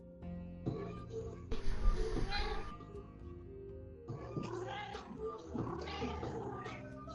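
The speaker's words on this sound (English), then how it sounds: "Whose cat is that?" A house cat meows in the background while players chat online in a video game, giving several drawn-out, plaintive cries mixed with game sounds.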